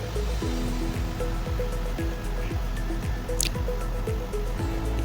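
Papaya ghanto being mixed with sugar in a pan, a steady rhythm of soft wet squelches and spoon taps repeating about twice a second, close up with no voices.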